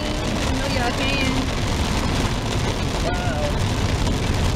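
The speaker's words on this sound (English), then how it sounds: "I cannot believe it's raining like this. Y'all hear the rain?" Heavy rain pouring outside, a dense continuous loud roar and hiss throughout with some wind-like rumble, and a voice faintly mixed in.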